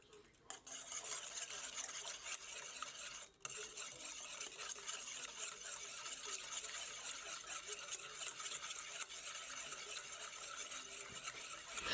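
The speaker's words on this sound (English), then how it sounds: "I'm just going to mix this to just break up that egg, mix the oil, the egg, and the banana together with my whisk" A whisk beats egg, oil and banana together in a bowl, giving a continuous dense scraping and splashing wash with one brief pause near the start, steady and close throughout.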